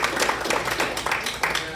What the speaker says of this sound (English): Big round of applause for our speakers.